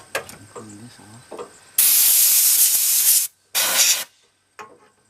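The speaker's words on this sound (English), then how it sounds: "Now I can bring the brush. An air hose. And clean this off." Compressed air from an air hose blasts loudly around the radiator area of a 1992 Ford 3930 4x4 shuttle-shift tractor in two long hissing bursts; a voice is heard briefly beforehand.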